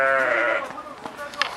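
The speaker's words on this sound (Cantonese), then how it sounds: "後面有啲羊啊，我聽佢哋叫聲好凄厲，所以想拍俾你聽啊" A sheep in a house's backyard gives one drawn-out, quavering bleat, close and loud, then the sound trails off into softer noise.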